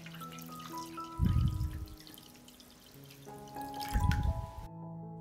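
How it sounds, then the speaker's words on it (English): Water poured into a pot holding glass jars set on a cloth, two short bursts of pouring and splashing separated by a quiet pause, close and fairly soft. "I pour water up to the height of the lid."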